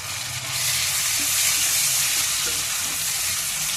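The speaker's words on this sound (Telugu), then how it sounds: "ఈ దోరగా ఎర్రగా అయ్యేలాగా వేగిన తర్వాత చూడండి ఎర్రగా బ్రౌన్ కలర్ వచ్చేలాగా వేగే కదా." Onions and tomato fry in a pan for a fish curry (chepala pulusu): a continuous, close, even hissing sizzle with faint stirring.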